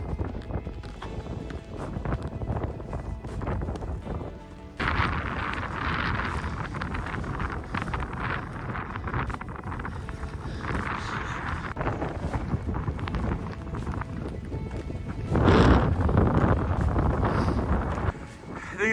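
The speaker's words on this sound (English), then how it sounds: "A little wind." Wind buffets and rumbles across a microphone while skiing in the Norwegian Arctic in winter, loud and uneven gusts that surge and drop, strongest near the end.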